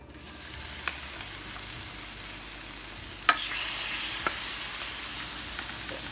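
Shrimp jambalaya with turkey sausage in marinara simmering in a covered pot, a soft continuous sizzle and bubble with a few sharp clicks and one louder tap midway, no voices.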